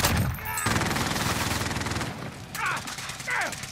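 A video game sentry gun fires a fast, steady stream of rapid mechanical shots, loud and close, with a brief pause before a few short chirping electronic bleeps cut through the rattle.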